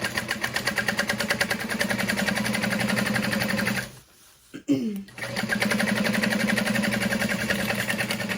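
Sewing machine top-stitching through a bag's exterior fabric, a fast rapid-fire mechanical whir of needle strokes running steadily, stopping briefly mid-clip with a couple of soft clicks, then resuming at the same quick pace.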